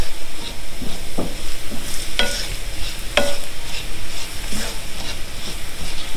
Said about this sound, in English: Just make sure you keep stirring it, otherwise you don't want to burn anything.